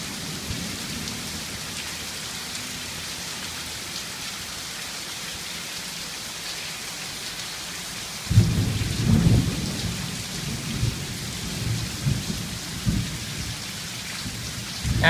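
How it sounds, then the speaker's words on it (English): A thunderstorm drops heavy rain, pouring steadily as a constant hiss, until a deep rumble of thunder rolls in about halfway and keeps growling beneath the downpour to the end. "So much rain."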